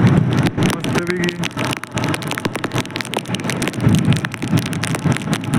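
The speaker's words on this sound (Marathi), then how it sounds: "मित्रांनो पाऊस बघू शकता कसला आहे, पाऊस आलाय जोरात, एक नंबर कोकणातला पाऊस." Heavy monsoon rain in the Konkan region pours down near a river on the way to Barki waterfall in Kolhapur, Maharashtra, a dense continuous hiss of drops close around, loud and unbroken throughout.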